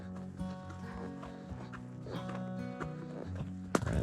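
A young colt walking on an easy trail ride, hooves giving soft, steady clip-clop steps on the ground amid faint outdoor background noise.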